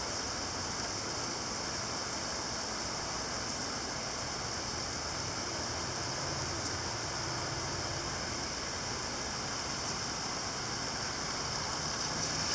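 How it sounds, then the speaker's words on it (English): Heavy rain pours down steadily and loudly outdoors during a June storm outbreak, a dense continuous hiss with no break across the whole stretch. "Much needed rain has finally arrived."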